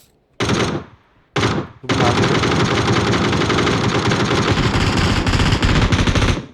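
Sustained automatic gunfire in a Rainbow Six Siege-style shooter match, two short loud bursts followed by a long continuous stream of rapid shots, close and dominant.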